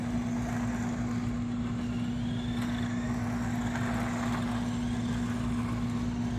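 Vintage RadioShack Z31 300zx RC car driving on pavement, a steady electric motor whine with a constant drone running evenly throughout, close and moderately loud with no talking.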